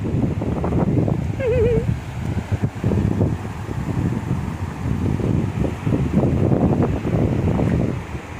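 Sea surf and gusty wind buffet a beach, a loud continuous roar with rolling surges, while people talk nearby and a bird or whistle briefly chirps.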